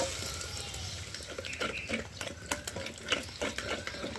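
Urad dal goes into black masala frying in oil on a wood-fired stove and gets stirred, with close scraping, clinks and soft sizzling in an uneven rhythm, no speech.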